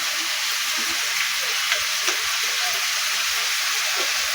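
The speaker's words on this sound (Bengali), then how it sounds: "ওই জন্য আমি চিংড়ি মাছটা আর আলুটা একসাথে ভালো করে ভেজে নেবো।" Shrimp and potato pieces fry in oil in a pan with turmeric, giving a steady, even sizzle and hiss throughout, with a few faint clinks and stirring sounds underneath.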